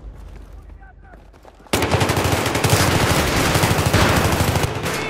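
Rapid automatic gunfire from a Battlefield 3 multiplayer match bursts in loud and sustained after a quieter opening, firing in quick repeated shots with distant battle noise around it.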